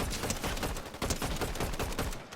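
Gunfire in the Fortnite video game, a loud, rapid string of shots in quick regular bursts, close and continuous over a couple of seconds.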